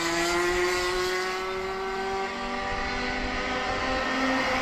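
Racing karts at the Shenington Kart Racing Club circuit in a round of club competition, their engines buzzing together in a steady, loud drone that shifts slightly in pitch as the pack heads into a corner.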